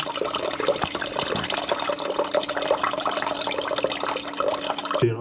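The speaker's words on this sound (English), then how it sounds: "This is where the water from the rest of the tank's gonna come flowing out." Water gushing out of an emptied toilet tank during a full internal-parts replacement, a close, loud, continuous splashing and gurgling flow that stops abruptly at the end.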